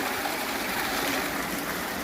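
Clean water from the wild Ammonoosuc River rushes steadily through a gold sluice, a continuous, close, even wash of running water with no pauses.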